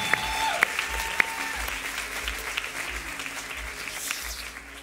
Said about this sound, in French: j'aimerais qu'on puisse élever notre Seigneur en applaudissant